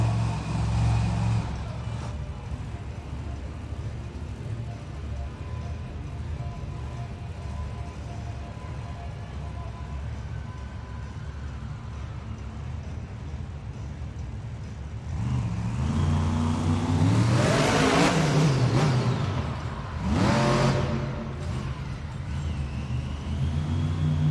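The Megalodon monster truck revs during a freestyle run in an arena, a steady engine drone swelling into loud roaring bursts under the crowd's noise.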